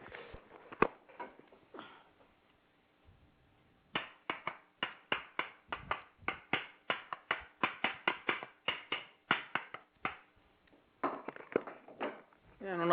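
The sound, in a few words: sticks knocked together imitating knocks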